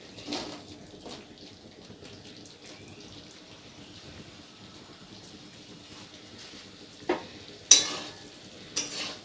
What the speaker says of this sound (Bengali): এরপরে এর মধ্যে দিয়ে দেবো ভেজে রাখা সজনে ডাঁটা আর আলুটা